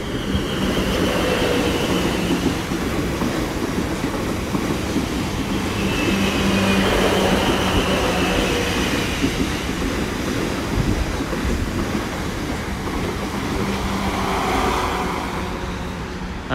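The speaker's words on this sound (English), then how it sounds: "it'll be a Southwestern Railway Series 2 London Waterloo" A South Western Railway Class 444 electric unit, 444010 leading, runs through Millbrook on the South West Main Line on a London Waterloo service, a loud, steady rushing roar with rhythmic wheel clatter and a faint whine as it passes close by.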